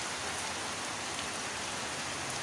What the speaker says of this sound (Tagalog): Maaga kasi yung ulan.